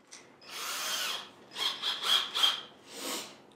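A power drill bores into wood in several short bursts, whining up and down with pauses between, fairly quiet and close.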